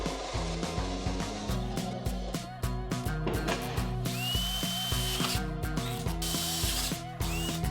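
Rapid mechanical clicking and whirring from a drill press, dense and busy with repeated short knocks and a brief rising whine.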